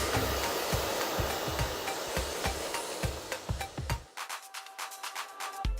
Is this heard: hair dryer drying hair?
yes